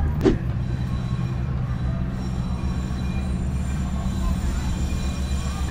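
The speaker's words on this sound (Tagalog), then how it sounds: "Ayun yung train guys, pwede kayo sumakay dyan." A train rumbles past at Hong Kong Disneyland, a low steady rolling roar with a brief sharper clank near the start, heard at moderate distance over ambient crowd noise.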